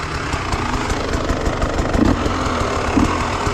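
A KTM TPI two-stroke motorcycle engine with relocated injectors runs at wide open throttle, a loud, close, sustained buzzing drone with steady intensity and slight surges.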